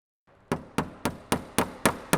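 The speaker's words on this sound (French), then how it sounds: "puis fixez avec des chevilles à frapper" Anchor pegs are hammered through a timber floor joist into a concrete base: seven sharp, evenly spaced blows ring out close and loud, each with a short decay, after a quiet lead-in.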